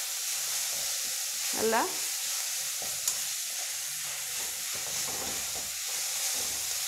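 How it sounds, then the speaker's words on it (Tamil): Mudakathan herb leaves being tossed in hot oil give a steady close sizzle with occasional stirring scrapes, while someone speaks briefly over it. "இந்த எண்ணெயில் ஒரு புரட்டு புரட்டி விட்டுடலாம்"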